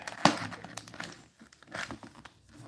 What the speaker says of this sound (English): the unwrapping sound is a part of it